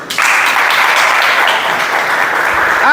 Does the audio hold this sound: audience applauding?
yes